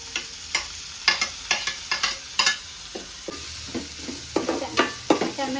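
Tomatoes dropped into a pan of browned onions fry with a bright crackling sizzle, punctuated by regular clacks and scrapes of a spoon stirring, close and alone.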